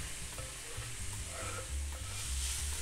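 Onion sautés in a pan with a continuous soft sizzle and low rumbling stir strokes as it is turned over, close and steady without talk.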